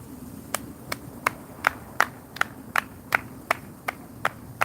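One person claps alone at a park, about a dozen sharp claps in a steady, even rhythm, each crisp and distinct over a quiet outdoor background.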